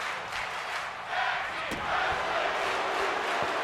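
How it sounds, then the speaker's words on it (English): A video game crowd at a wrestling match chants and roars in a SummerSlam arena in Cleveland during a women's tag team title bout, with a sustained wash of rising crowd noise. "The crowd chanting tag team wrestling here at SummerSlam in Cleveland, Ohio"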